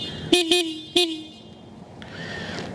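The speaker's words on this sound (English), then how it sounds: "I have to say the horn sound is kind of mellow" Horn on a Kawasaki Z900 SE motorcycle: three short, mellow toots in quick succession, two close together and a third just after, fairly loud and close, then fading into quiet background.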